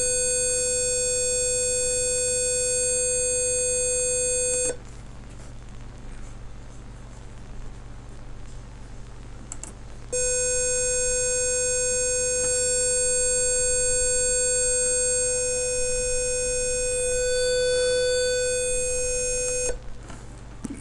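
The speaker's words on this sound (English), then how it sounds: "why is this buzzer sounding?" A steady electronic buzzer tone sounds continuously for several seconds, stops, then sounds again for about ten seconds over a low background hum.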